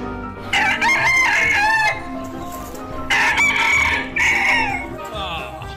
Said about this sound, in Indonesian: di sini ada ayam teman-teman